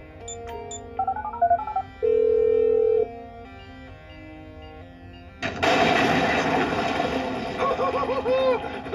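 Phone dialing in GTA V: a quick run of distinct keypad tones, then a longer held tone, before a loud burst of noisy action sound takes over.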